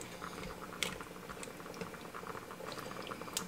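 Liquid for beef short ribs with potatoes starting to bubble in a pressure cooker, a soft steady boil with scattered small pops and occasional sharper ticks, fairly quiet and close.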